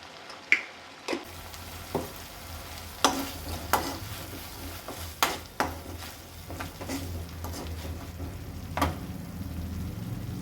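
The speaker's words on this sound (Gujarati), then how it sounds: "આ બધાને સરખું મિક્સ કરી લઈએ" A spoon stirs vegetable Manchurian mixture with chillies and salt in a pan, making a quiet sizzle broken by a steady series of sharp scraping clicks, with no talking.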